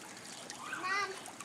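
Water from a whale-shaped toy sprinkler splashes and sprays into a small backyard pool, a brief continuous spatter close by, with a voice partly over it.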